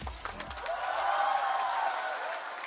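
Studio audience at a stand-up comedy show applauding and cheering as comedian Zang Hongfei is welcomed on stage, a swelling wave of clapping and crowd noise after a brief spoken introduction.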